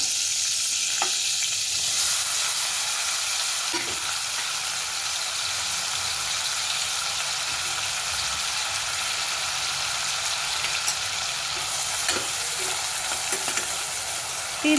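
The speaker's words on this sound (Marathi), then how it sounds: "आता आपण कांदा फोडणीला टाकूया" Chopped onion frying in hot oil and butter for pav bhaji, a steady bright sizzle throughout with occasional scraping stirs of a spoon in the pan, no talking.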